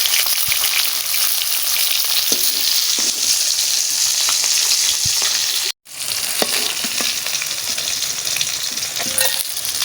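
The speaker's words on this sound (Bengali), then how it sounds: "মাছ ভাজা হয়ে গেছে" Fish fries in hot oil in a pan, a loud, continuous sizzle with occasional stirring scrapes and brief pops, broken by a short gap midway; no one speaks.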